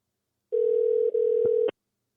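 Outgoing telephone call, placed to a pizza place's owner, ringing: a single steady ringback tone of a little over a second, a brief gap, then a second tone cut off, clear and alone with no talk.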